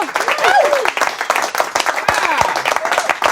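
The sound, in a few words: audience applause and clapping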